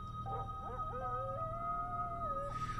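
A long, wavering howl from a wolf-like creature in the 7 Days to Die video game, rising and sliding in pitch for about two seconds over a steady low game hum.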